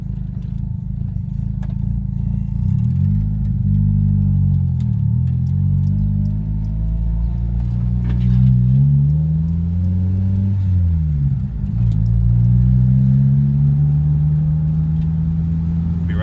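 A 1993 Honda Civic with a turbocharged D15B VTEC engine runs steadily nearby, its low droning note wavering and rising and falling slightly through the whole stretch, with no talking.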